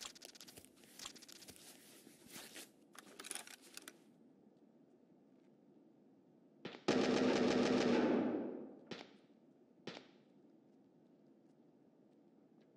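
Escape from Tarkov gunfire comes as a scattering of sharp cracks early on, then a loud two-second rattling burst of automatic fire, followed by two isolated shots and a quiet stretch, with no one talking.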